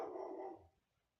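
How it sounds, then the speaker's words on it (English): Outdoor dog barking in the early morning, a single short, muffled burst from some distance that cuts off quickly and leaves quiet behind. "my dog's out there barking, going crazy"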